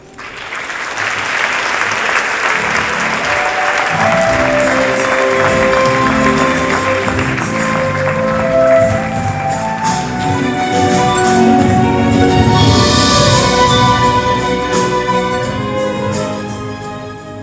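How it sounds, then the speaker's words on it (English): An audience applauds scholarship recipients with dense, sustained clapping that fills a large room, holding steady at full strength for about seventeen seconds with no speech over it. "Give them a huge round of applause."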